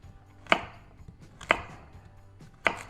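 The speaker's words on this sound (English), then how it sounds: "I'm not too concerned with how fine a chop it is" Vegetables, including carrots, chopped coarsely for homemade tomato soup: three crisp, separate knife strikes on a cutting board, about a second apart, close and clear over a quiet room.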